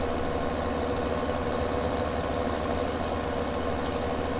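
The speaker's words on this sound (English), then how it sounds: "I can feel the tractor struggling to pull this thing." Tractor engine in Farming Simulator 17 hauling a heavy trailer, a steady, continuous low rumbling drone that stays loud and even throughout with no talk over it.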